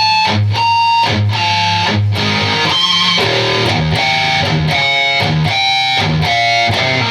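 An electric guitar plays the chorus riff of a song, a loud, rhythmic pattern of repeated chords and single-note accents with a slightly gritty tone, close up and with no talking.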